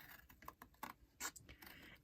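Scissors cut out a small felt chibi figure with soft, scattered snips and rustles, quiet and close with no talking.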